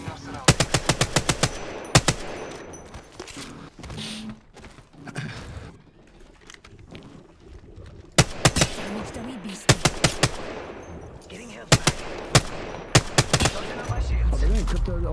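Rapid automatic gunfire in a competitive PUBG tournament match, with repeated bursts of sharp cracking shots, some close and loud, others quieter and farther off, while players talk over it.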